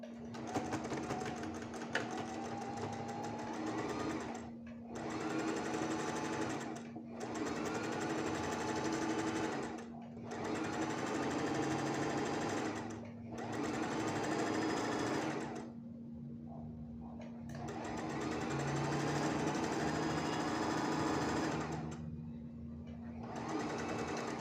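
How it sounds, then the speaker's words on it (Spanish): A sewing machine runs a straight seam along a drawn line on a gathered blouse, steady close mechanical whirring in several long bursts separated by brief pauses, with faint voices in the background. "Entonces vamos a llevarlo a la máquina. Bien, costura recta por toda la línea dibujada."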